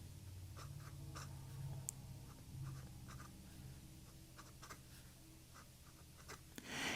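A Fountain Pen Revolution Himalaya flex fountain pen writes on paper in normal handwriting, very quiet close scratching in short irregular strokes and taps with brief pauses between letters.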